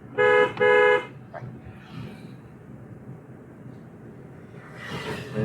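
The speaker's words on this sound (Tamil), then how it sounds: "ஒரு தடவை ஹார்ன் அடிச்சுக்கிட்டேன்" Two short car horn honks in quick succession, loud and close, over a low rumbling engine and road noise.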